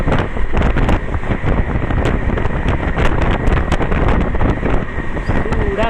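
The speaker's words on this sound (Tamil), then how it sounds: "காற்று வருது உள்ள" Wind rushes in through an open train window on a journey to Rajasthan, a loud, buffeting roar with gusty rumbling over the rattle of the moving train.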